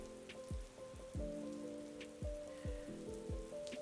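Rain sounds behind a lo-fi bed: steady soft patter under a mellow sustained tone, with low plucked notes dropping at irregular intervals, all gentle and even in level.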